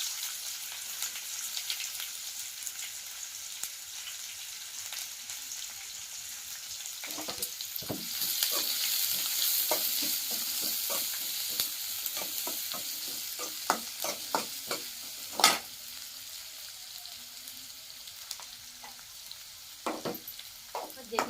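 Chopped onions and curry leaves frying in a pan, a quiet hiss that swells into a stronger sizzle, with repeated clattering strokes of a stirring spoon, close and without speech.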